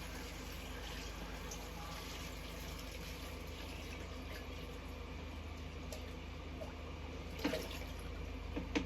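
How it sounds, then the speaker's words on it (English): Tap water runs steadily into a pot of sweet potatoes, a continuous even rushing and filling sound with no pauses, moderately close, with a couple of small knocks near the end. "And now what I'm going to do is cover it with water."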